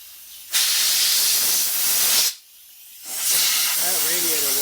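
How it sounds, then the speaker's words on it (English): Newly fitted Corsair PC fans spinning up, giving a loud broadband whoosh like rushing air that cuts out briefly, then returns, with a faint tonal whine near the end. "look at that fan go"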